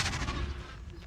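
A Confringo blasting spell goes off in the Hogwarts Legacy video game, a loud, booming explosive burst with a sharp start that rumbles on and slowly fades over about a second.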